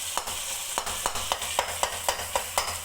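Tomatoes sizzle in a hot pan for an aloo anda bhujia while a spoon stirs them in an even rhythm, each stroke making a soft scrape over the steady frying hiss.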